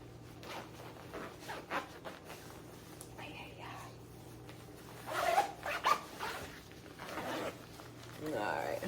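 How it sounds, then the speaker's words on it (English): A Nike jacket with a hood is zipped up in a couple of quick close rasps around the middle, amid rustling fabric and soft handling noise. "Oh, let me zip it."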